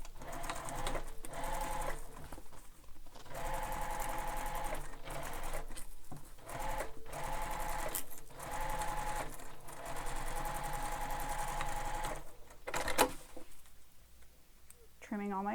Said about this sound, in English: Now I'm going to sew across the bottom.